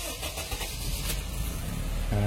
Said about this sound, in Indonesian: Jadi dia akan nyala lagi ketika starter.